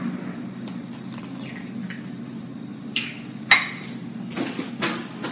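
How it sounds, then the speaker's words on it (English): An egg is cracked into a cauliflower mixture in a kitchen, with a few sharp taps against a hard edge followed by a soft wet squish and dripping, all close and fairly quiet. "So crack it right in."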